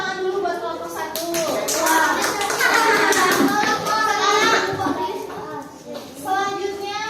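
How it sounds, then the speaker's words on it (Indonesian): A classroom full of children clap together in a lively burst of applause for a group lasting several seconds, with young voices chattering over it. "Tepuk tangan dulu buat kelompok 1."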